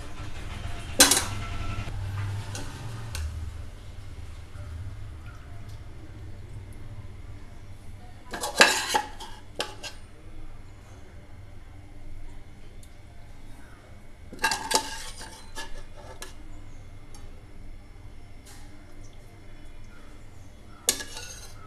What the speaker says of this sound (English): Now Let us transfer the mutton into a serving plate like this.